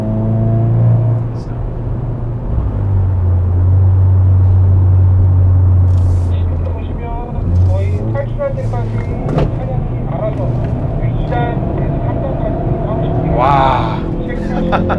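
Hyundai Veloster N, a front-wheel-drive hatchback with an 8-speed dual-clutch gearbox, lapping a race track; steady loud engine drone rises and falls through shifts, with a voice talking over it throughout.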